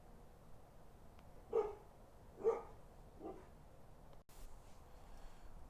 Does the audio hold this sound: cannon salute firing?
no